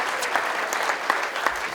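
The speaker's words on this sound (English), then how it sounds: "Let's give him a little applause." Audience clapping at an awards banquet in Reno, a steady even patter of many hands filling the room, moderately loud with no one speaking over it.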